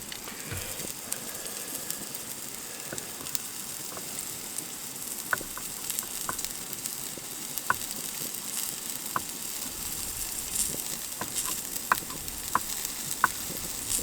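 Spam and egg frying on a Trangia 27 camping stove, a constant soft sizzle with scattered sharp crackles and pops throughout, close and fairly quiet, with no talking.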